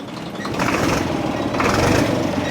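A village motorbike engine revs close by, sputtering and spitting with a rough, buzzing drone that surges twice in loudness.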